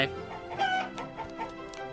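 Chickens cluck repeatedly while being fed in the farming video game Summer in Mara, a busy run of short calls with no speech over them.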